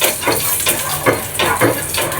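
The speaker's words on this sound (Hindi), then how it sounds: "घी डाल दिया हमने" Ghee hitting a hot pan while roat, a sweet flatbread offering for Makar Sankranti, cooks, giving a loud, close sizzle with bursts of spitting and a few scraping, clattering utensil sounds.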